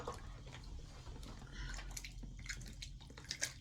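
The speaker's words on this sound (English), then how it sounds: "I'm going to put my feet back in the water" Feet settling into the water of a home pedicure foot bath, giving soft, faint sloshing and trickling with a few gentle splashes. No one speaks.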